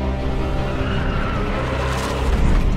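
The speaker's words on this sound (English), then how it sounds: "This is the Porsche 911 GT2 RS." A Porsche 911 GT2 RS sports car drives by with a loud, steady engine roar and rumbling tire noise, close and continuous, swelling slightly at the end.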